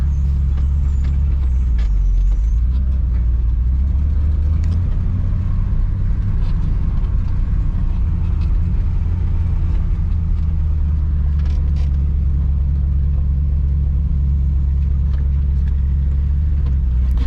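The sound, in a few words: log truck backing up on a hill at the sawmill yard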